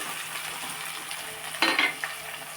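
Green chillies and onions frying in a pan for a bottle gourd milk curry, a soft steady sizzle with a brief burst of scraping stirs and utensil clinks near the end, no talking.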